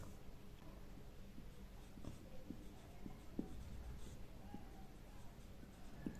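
Faint scratchy strokes of numbers being written on a board during a statistics lesson, in brief irregular bursts over low room hiss, with no voices.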